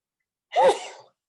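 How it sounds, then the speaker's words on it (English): One short, sharp human sneeze bursts out against near silence during a church adult forum meeting. "did somebody sneeze?"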